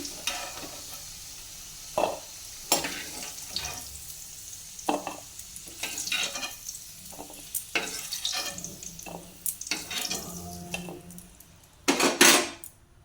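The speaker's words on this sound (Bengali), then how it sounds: "আলু ভাজাটা হয়ে গেছে, এটাকে একটা অন্য প্লেটে নামিয়ে নিচ্ছি।" Fried potatoes being lifted out of a hot pan onto a plate: a run of sharp metal scrapes and clinks from a spatula against pan and dish over a soft sizzle, ending in a loud clattering burst.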